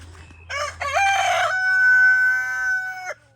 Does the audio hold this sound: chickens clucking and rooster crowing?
yes